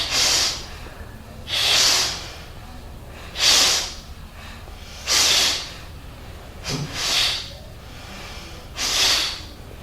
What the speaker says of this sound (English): You might have heard the two guys doing the rhythmic breathing